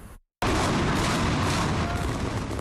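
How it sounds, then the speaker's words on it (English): A sudden massive blast erupts after a brief pause as the Carmichael Towers 3 building in Nashville is demolished, then rolls on as a loud, sustained roar of collapsing debris and rumble. "the explosion of the Carmichael Towers 3 off Nashville's West End Avenue"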